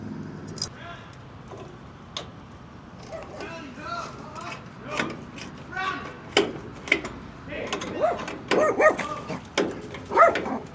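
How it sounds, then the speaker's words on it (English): Dogs barking sharply in scattered bursts, some near and loud, others farther off, growing busier toward the end over a low background hum. "The neighbor's dogs tried to attack me."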